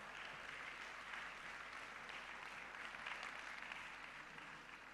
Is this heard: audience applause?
yes